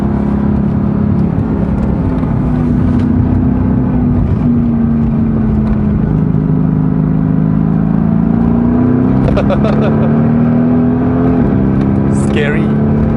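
The turbocharged V8 of a Mercedes-AMG GT S drones steadily up close, its pitch rising and falling slightly as it pulls on a mountain road run to Genting. Someone talks over the engine throughout.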